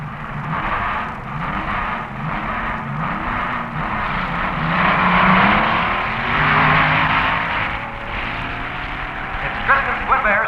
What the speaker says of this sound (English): The Howard Cam Special, Jack Chrisman at the wheel in the final round with Tom McEwen driving Dick Ray's Chrysler-powered A Dragster.